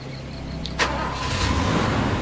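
A truck engine cranks and catches in the video game Far Cry, settling into a steady rumbling idle close by.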